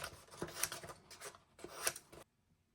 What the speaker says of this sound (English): I think I'll hit it with my scissors real quick first